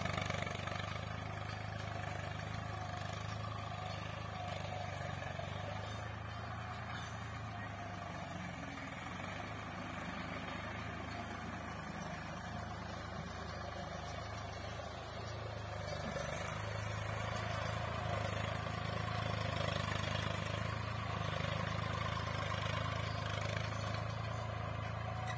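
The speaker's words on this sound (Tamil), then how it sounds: "அதனால் டிராக்டர் வச்சு உழுதுட்ருக்கோங்க." A tractor plowing a garden runs steadily at low revs, with a constant rumbling drone that holds for the whole stretch.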